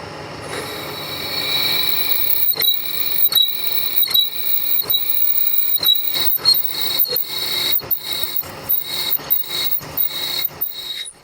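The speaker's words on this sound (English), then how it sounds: "I want to start with drilling those holes" A high-pitched metallic whine of machining runs throughout, broken by a steady series of sharp repeated bursts as a machine drills holes in a metal part for a Mustang Cobra.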